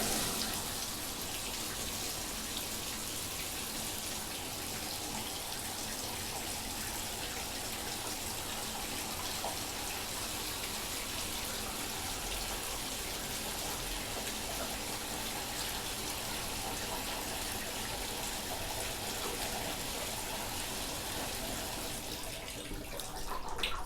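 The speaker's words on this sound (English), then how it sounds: "Okay, so we put some water in the tub now." Tap water pours steadily into a slow-draining bathtub, an even, continuous rush that holds for about twenty-four seconds with no talking.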